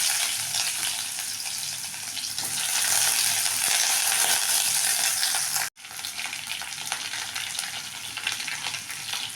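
Green chilli, garlic and a large onion frying in hot oil in a kadai, a steady loud sizzle and crackle throughout, with one brief dropout midway and no talking.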